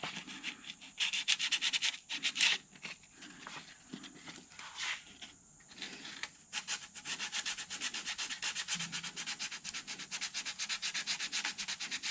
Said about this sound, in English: this is net style sandpaper, so it doesn't clog up bad with our filler dust, and it is an 80 grit, so we're lightly going to sand this